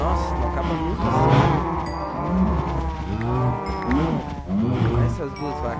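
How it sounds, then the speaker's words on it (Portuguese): Cattle in the Minecraft video game moo repeatedly, several overlapping low drawn-out calls rising and falling across the stretch, fairly close and loud over a steady game background hum. "vaquinhas aqui, chega de matar vaca."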